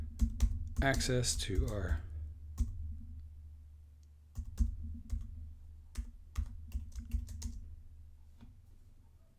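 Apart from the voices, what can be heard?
typing a password on a computer keyboard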